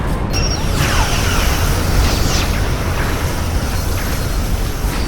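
A Borg vessel exploding in the Star Trek: Legacy video game, a sustained loud rumbling blast with crackling debris and sweeping tones, dense and continuous throughout with no talking.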